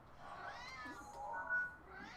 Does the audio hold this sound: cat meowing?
yes